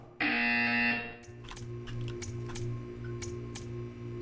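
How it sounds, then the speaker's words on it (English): A loud, steady buzzer tone in the Portal 2 video game sounds for about a second, then gives way to a quieter hum with a regular series of faint clicks. "You will hear a buzzer."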